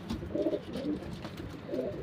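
Pigeons kept for flying in a Punjabi loft coo in low repeated bursts, moderately close, over a steady background murmur with no talk.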